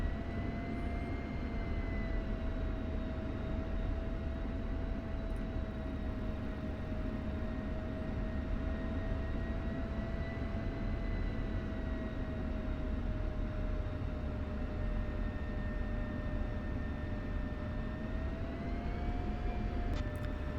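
Jet aircraft taxiing on a taxiway in the DCS flight simulator, a steady engine drone with a sustained whine holding throughout at constant level, without speech.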